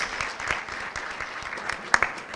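At a natural cosmetics symposium, an audience claps to welcome a speaker, a crisp run of scattered handclaps with a few sharper claps near the end.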